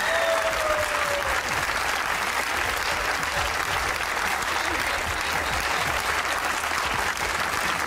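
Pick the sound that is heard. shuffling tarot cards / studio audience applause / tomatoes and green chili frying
studio audience applause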